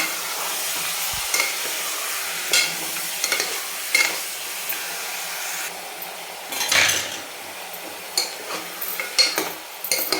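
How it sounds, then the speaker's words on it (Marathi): Mutton sautéed in a pan over a high gas flame, a continuous sizzle close up with repeated scraping stirs and occasional utensil knocks against the pan. "पाच मिनिट आपण फुल फ्लेमवरती परतून घेतलेला आहे"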